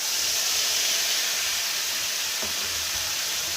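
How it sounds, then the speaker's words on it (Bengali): Spice paste goes into a hot pan for Bengali chicken kosha, giving a loud, steady, close sizzle and hiss that fills the whole stretch. "দেখুন মশলাটাকে দিচ্ছি,"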